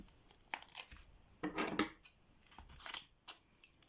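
Scissors snip small pieces of double-sided tape in a few short, close crisp cuts, with crinkling of the tape between them in a quiet room.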